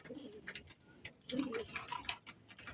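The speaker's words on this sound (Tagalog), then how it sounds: "Sinasanay lang natin yung ating kalapati." Soft, low pigeon coos repeat close by amid light rustling and faint ticking sounds, from racing pigeons being trained to return to their loft.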